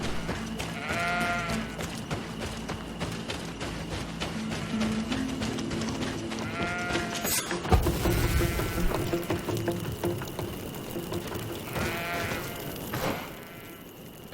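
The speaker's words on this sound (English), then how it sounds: "Oh, what, sheep?" Sheep bleat in the video game Greedfall, several wavering calls spread across the span over a steady ambient game background, with a brief thump partway through and no talking.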